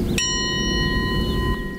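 A single memorial bell for plane crash victims is struck once, giving a clear metallic ding that rings on and slowly decays over low background noise.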